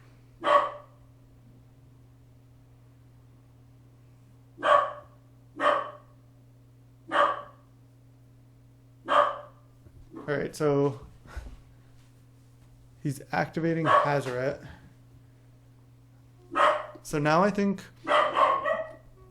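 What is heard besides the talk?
dog barking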